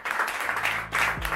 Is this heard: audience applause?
yes